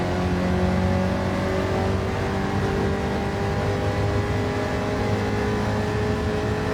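A race car engine in Gran Turismo 7 drones at high revs, a continuous loud whine shifting slowly in pitch as it accelerates, with no talking.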